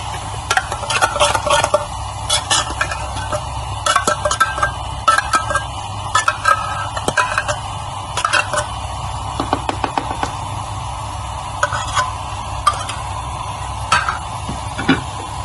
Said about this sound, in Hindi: ये बहुत जल्दी लग जाता है, इसलिए एहतियात से चम्मच को हिलाते हैं